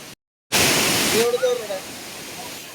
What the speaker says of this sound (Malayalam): നമ്മൾ മെയിൻ വെള്ളച്ചാട്ടത്തിലേക്ക് പോവാണ്.